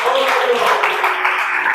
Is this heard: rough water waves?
no